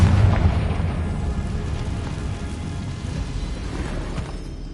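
Booming spell blast cast in Hogwarts Legacy, a loud close explosion that rumbles and slowly decays over several seconds with no talk over it.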